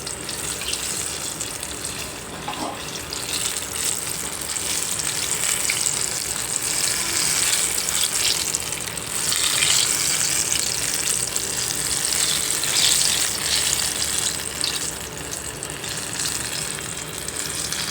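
Mirchi bajji, batter-coated chillies, fry in a pan of hot oil in street-cart style, giving a steady, dense sizzle and bubbling that runs unbroken throughout, close and fairly loud, with no speech.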